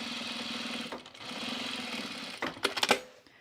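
A sewing machine stitches the hems of overalls with heavy topstitching thread, running in a steady close whir that pauses briefly, then ends in a few louder clunks and clicks.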